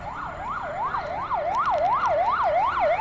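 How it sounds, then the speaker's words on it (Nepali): Ambulance sirens passing on a road near Kohalpur, a steady rising-and-falling wail repeating about every half second, moderately loud over faint traffic rumble, with no talking. "एम्बुलेन्सहरू पास भइरहेछ"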